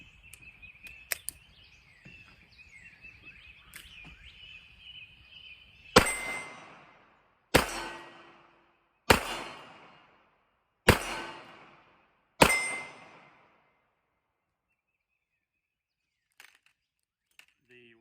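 Five loud .38 Special revolver shots crack one after another about a second and a half apart, each followed by a short ringing decay from steel targets at 10 to 20 yards, after earlier faint clatter and a high tonal hum.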